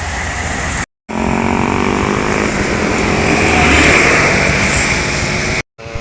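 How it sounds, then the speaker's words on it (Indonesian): Expedition trucks and other heavy traffic drive along a road toward the Keramasan toll gate, a loud continuous engine roar and tyre rumble close by, swelling slightly midway with two brief cut-outs. "Ini banyak angkutan truk ya, ekspedisi yang akan mengarah ke pintu tol Keramasan."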